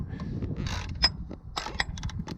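Drive belt coming off the engine pulleys of a 1998 Ford Mustang GT, worked with a half-inch ratchet: close mechanical clicks, creaks and a sharp metallic snap amid rustling.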